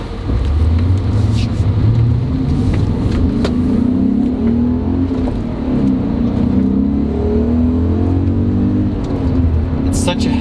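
A BMW M5 engine revs steadily at high pitch while driving, loud and close, with a constant rushing drone and no pauses.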